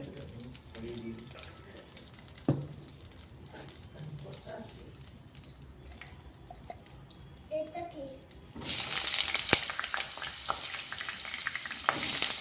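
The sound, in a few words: frying in mustard oil in a pan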